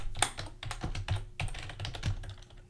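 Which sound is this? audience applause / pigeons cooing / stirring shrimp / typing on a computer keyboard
typing on a computer keyboard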